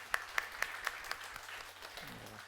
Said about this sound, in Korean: 잠깐 일어나시면 큰 박수로 환영하겠습니다